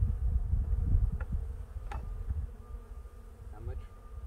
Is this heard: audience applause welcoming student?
no